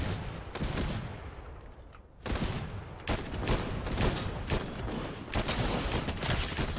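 Bursts of video game gunshots in rapid volleys, loud and sharp, separated by short quieter gaps with no talking over them.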